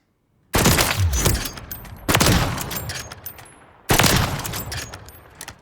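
Orsis T5000 bolt-action sniper rifle firing in Call of Duty Modern Warfare III, three loud, heavy single shots about 1.5 seconds apart, each with a long rolling echo tail, no talk.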